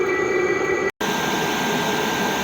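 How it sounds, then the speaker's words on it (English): A steady, airy whistling hiss from the exhaust of a running 8 kW Chinese diesel heater, with a thin high tone on top, briefly cutting out before resuming just as loud. "It has got a bit of a whistle to it."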